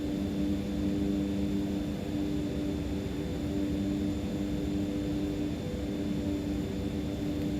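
A steady, even hum of an Aerobask Epic E1000 turboprop on final approach in the X-Plane 12 flight simulator, a constant tonal engine drone with broadband airflow noise and no speech.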